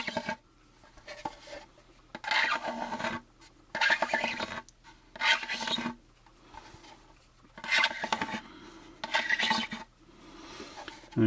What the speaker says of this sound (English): the smooth sandpaper that we're using should be about 400 grade